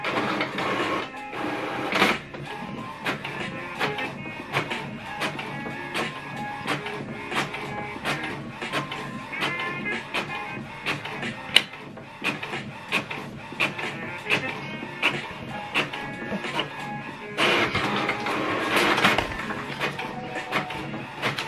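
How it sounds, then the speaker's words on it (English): An HP OfficeJet 8015 inkjet printer runs steadily through a print job, its mechanism whirring and clicking in a busy rhythm for the whole stretch, with louder feed bursts near the start and toward the end. "Here we go, it's right now printing."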